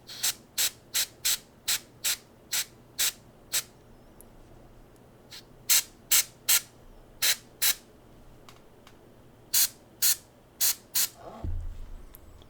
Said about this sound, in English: So I'm going to spray a little bit of this onto the white.